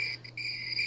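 A steady, shrill cricket chirp, loud and continuous with a brief dip in the middle.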